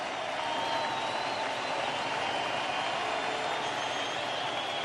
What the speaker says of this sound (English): This crowd has been great and in it from the beginning over 6 hours ago